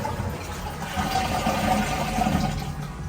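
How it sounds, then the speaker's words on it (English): Water draining from a Luxe Bidet Neo 120 Plus bidet after its valve is shut off, a steady close rushing flow holding even for about three seconds with no talk. "you guys want to press right here to release all the water."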